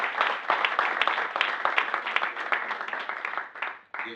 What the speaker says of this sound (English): Give the guys a hand.